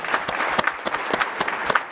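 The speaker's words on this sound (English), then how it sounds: "Let's keep the round of applause going for all of our panelists today." Dense applause from a conference audience honoring a panel of speakers at a youth summit, steady rapid clapping throughout with no pauses.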